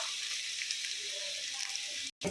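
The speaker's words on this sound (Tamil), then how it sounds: "பாருங்க வெங்காயம் ஒரு அளவுக்கு நல்லா வதங்கிடுச்சு" Onions sauté in a pan for a home curry meal, giving a steady, even sizzle that runs throughout and cuts out abruptly just before the end.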